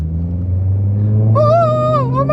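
A BMW E90/E92 M3 with the S65 engine revs through a prototype X-pipe exhaust, a close, loud rumbling drone that rises into a sharp, wavering high-pitched howl partway through.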